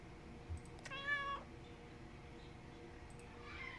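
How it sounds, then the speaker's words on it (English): A cat meows once in the Kentucky Route Zero video game, a short rising-and-falling inquisitive call standing clearly above a low background hum, with no talk over it. "inquisitive meow."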